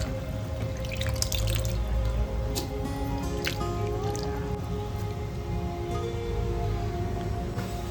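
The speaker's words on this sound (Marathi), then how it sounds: "थोडे चांगले धुवायचे स्वच्छ" Prawns are washed clean under running tap water in a home kitchen while cooking a prawn rice dish, with a steady stream and scattered drips and squishy splashes throughout.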